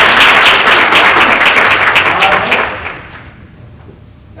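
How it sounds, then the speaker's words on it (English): An audience at a board meeting applauds with loud, dense clapping that fades away over a few seconds into near quiet. "clap it up for them"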